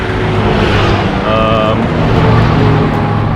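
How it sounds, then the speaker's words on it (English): Several super old Nissan pickup trucks passing on a road in Iran, with steady loud traffic noise, a brief horn-like toot in the middle and car engines rolling by close. "3 of those super old Nissan pickup trucks passed us"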